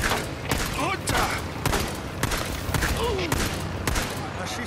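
Gunfire aimed at a motorbike in the game Days Gone: repeated sharp shots in an uneven rhythm over steady engine and game noise, with bursts of excited talk mixed in.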